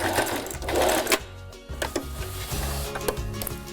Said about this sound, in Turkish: sağlam dikiş alalım